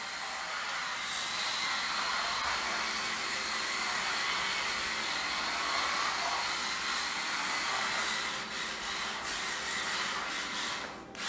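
Continuous high whine of a small Kamtom 1/32 scale AWD RC drift car motor running, a steady close electric buzz that holds throughout with slight dips near the end.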